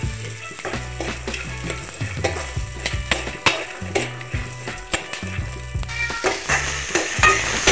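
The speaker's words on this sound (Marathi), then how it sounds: "सर्वप्रथम मी इथे हे भाजून घेणार आहे आणि थोडं तेल सुद्धा टाकून घेणार आहे" Green chickpeas and peeled garlic cloves sizzle and roast in a little oil in a pan, with steady frying crackle and repeated clacks of stirring against the pan, close and continuous throughout.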